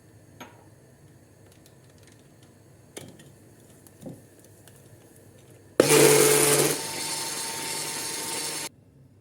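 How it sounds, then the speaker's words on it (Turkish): A few faint clinks of kitchenware, then an electric mixer starts abruptly and whirs loudly for about three seconds whipping eggs and sugar before cutting off. "Mikserle birazcık köpürteceğiz."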